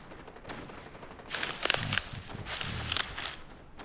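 Fortnite gunfire, several broadband bursts of shots clustered in the middle, moderately loud amid the game's background with no speech.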